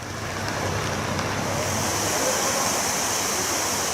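Floodwater from the overflowing Erabadda stream at Kappetipola rushes steadily through damaged farmland, a continuous broad wash of turbulent water with no voices.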